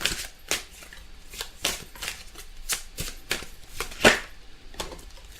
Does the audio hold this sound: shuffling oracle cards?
yes